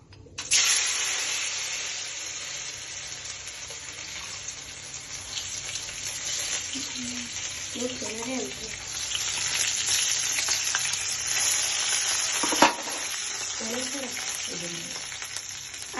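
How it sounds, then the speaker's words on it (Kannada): Chana dal dropped into hot tempering oil sizzles and crackles steadily up close, a bright frying hiss with occasional sharp pops and a clink of a spoon, while someone speaks briefly underneath. "ಒಗ್ಗರಣೆ ಆಗದಾಗ ಕಡ್ಲೆಬೇಳೆ ಹಾಕಬೇಕು."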